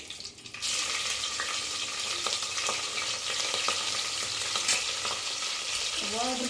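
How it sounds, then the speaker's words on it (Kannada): Green chillies frying in a pan give a steady, loud sizzle that starts abruptly after a brief quiet moment and continues with a few light stirring clicks. "ಫಸ್ಟು ಹಸಿಮೆಣಸಿನ್ಕಾಯಿ ಹಾಕಿ"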